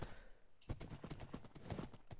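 Rapid rhythmic hoofbeats of a horse galloping in the blocky sandbox game Minecraft, steady clip-clop thuds running close and moderately loud after a brief quieter lead-in, with no talk over them.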